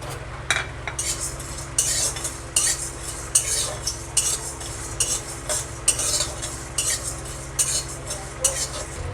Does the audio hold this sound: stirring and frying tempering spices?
yes